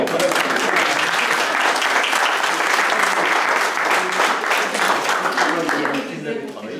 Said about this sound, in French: C'est un beau oui, on peut l'applaudir.